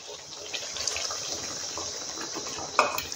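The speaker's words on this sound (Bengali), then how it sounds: "আর একটু জল দেবো" Water poured into a pan holding pieces of katla fish for a Bengali rezala curry, a steady close splashing stream running throughout with a brief louder splash near the end.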